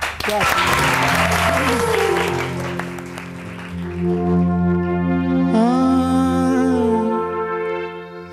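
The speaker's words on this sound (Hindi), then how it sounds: "ओवर टू यू और बहुत सारी तालियां।" A crowd claps loudly for a few seconds, then the applause fades as a voice and music take over.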